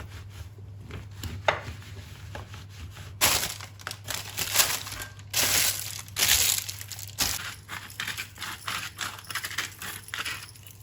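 Potatoes rubbed and patted dry in a spread cloth give irregular soft crunching and rustling, close and moderately loud in bursts over a steady low hum, with no talking.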